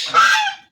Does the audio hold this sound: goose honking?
yes